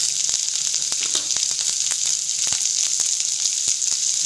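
Chopped onions and green chillies fry in hot oil in a pan for a Tamil avarai paruppu sambar, giving a steady close sizzle with scattered crackles and pops throughout.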